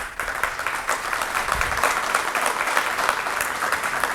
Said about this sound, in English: Kindly clap for that.